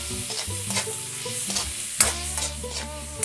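Cubed pork for menudo sizzles in a hot pan with a steady crackle, broken up by scraping stirs and a sharp clank. It is close and constant, with no voices.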